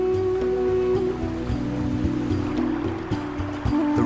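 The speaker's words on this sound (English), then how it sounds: "The river here flows over other sacred icons." A river at a sacred Hindu site of the Khmer Empire runs over a carved riverbed, giving a steady, close rush of flowing water with small splashes and no voices.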